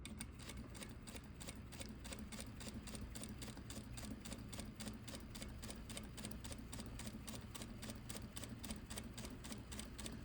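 A sewing machine runs a straight stitch at a steady pace, its rapid even ticking needle strokes continuous and fairly quiet throughout.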